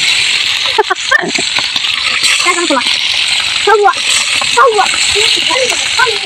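Fish dropped into hot oil sizzles and spatters on a clay stove, a steady close frying hiss while people talk over it.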